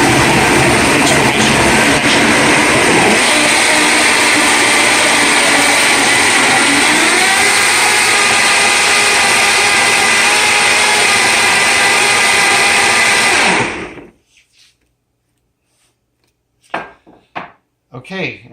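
A blender grinds a raw food smoothie with ginger at high speed, a loud steady whir and roar that runs without a break for about fourteen seconds, then cuts off sharply, leaving near silence broken by a few faint knocks and clatters.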